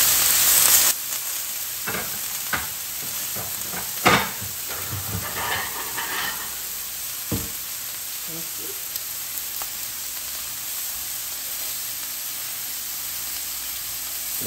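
Steak flap meat and vegetables sizzle and hiss on a Mongolian barbecue grill, a steady bright frying sound broken by scattered scraping and clacking of utensils, with no voices heard.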